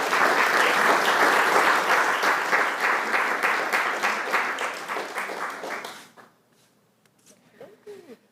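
An audience welcomes speaker Lynda Mapes at a Red Barn event with loud, sustained applause, many hands clapping densely for about six seconds before fading to quiet rustles and a few soft sounds.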